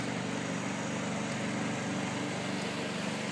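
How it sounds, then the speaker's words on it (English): A DIY 12-volt generator engine runs steadily, heard from the side of the unit at close range, a continuous buzzing drone with no pauses, alone and without talk. "like I said, there's some noise out the side, but that's minimal compared to what it was."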